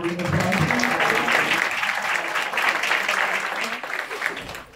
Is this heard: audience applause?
yes